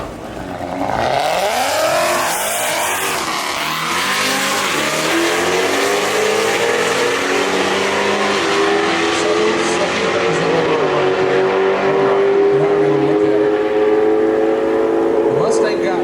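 A 2019 Dodge Challenger street racing a Mustang, engines roaring loud as they launch and climb steadily through the revs, with a crowd and faint talk beneath the continuous acceleration.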